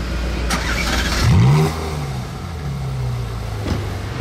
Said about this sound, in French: On va terminer la vidéo du jour sur ce démarrage de 458